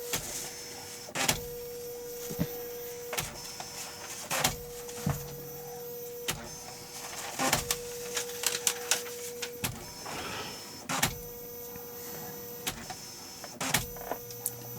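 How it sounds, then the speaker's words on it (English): An Oki-Data Okimate 20 thermal printer prints, with repeated short whirring bursts of the print head and carriage, sharp clicks and pauses between lines, heard up close with no talk. "That's one benefit to thermal printers like this."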